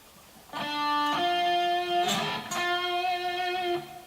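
An electric guitar plays a slow lick as a few clear sustained notes with a hammered or pulled change between them, close and alone without talk.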